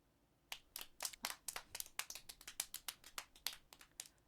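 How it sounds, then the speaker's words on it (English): Thin, scattered clapping from a small number of hands in the video game Steins;Gate, crisp and irregular, continuing for a few seconds. "Dr. Nakabachi enters with sparse applause."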